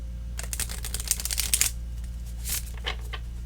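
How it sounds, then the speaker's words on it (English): Oracle cards for a witching-hour, moon-and-months themed deck being shuffled by hand, a run of crisp riffling clicks and papery flutters in two close bursts over a low steady hum, with no talking. "I like to get a really thorough mix before I start cut shuffling"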